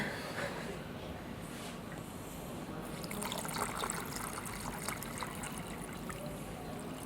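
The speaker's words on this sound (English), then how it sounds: "¿sale agua o qué?" Water trickles and splashes steadily at close range, a soft continuous gurgling stream filling the whole stretch.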